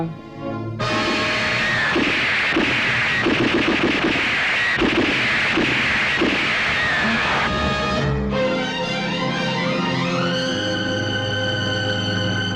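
Guns fire in a dramatic old Telugu film scene, a loud dense volley of repeated shots and blasts sustained for several seconds, followed by a roaring, ringing wash of noise.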